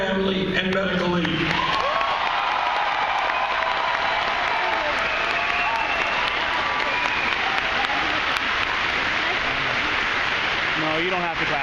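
Crowd at a political rally breaking into sustained applause with scattered cheering, a dense wash of clapping that carries through most of the stretch while a voice speaks over it at the start and near the end.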